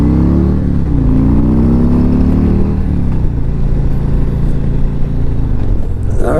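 A motorcycle engine on the road revs up with a rising, close, loud tone through gear changes, then settles into a steady cruising drone with no talking.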